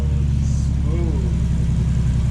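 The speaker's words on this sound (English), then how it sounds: "That's a smooth sounding motor right there" A Toyota 2JZ engine running on E85 just after a cold start idles smoothly, a steady, close, even low rumble with no rev changes throughout.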